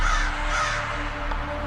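Crow cawing steadily over a continuous background hum, close and fairly loud, with no voices.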